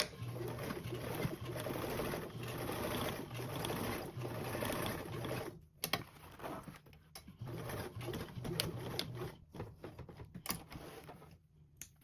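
A sewing machine runs a seam along a convertible duffle bag, giving a steady mechanical whir in short runs with brief stops between them, close and fairly quiet.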